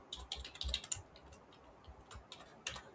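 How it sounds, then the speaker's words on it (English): Quiet, close keystrokes on a computer keyboard as a password is entered, a quick cluster of soft clicks followed by a few scattered taps. "type your password"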